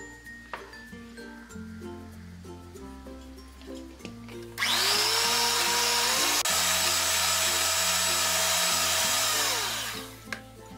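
An electric beater whirs loudly through brownie batter with melted butter and vanilla essence, starting abruptly midway and running steadily for several seconds before cutting off, over soft background music.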